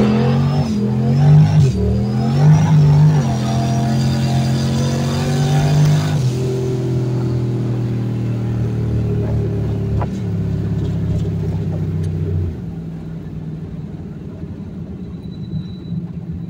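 A turbocharged 347 Mustang engine launches and accelerates, its loud rising rev climbing through a few quick gear changes before settling into a steady, sustained drone that fades slightly toward the end.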